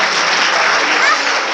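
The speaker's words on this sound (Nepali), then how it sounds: "ताली बजाइदिनुहोस् अब उहाँहरूको लागि" Steady applause from a church assembly congregation, a dense, loud, even sheet of clapping hands with no pauses, heard near and alone.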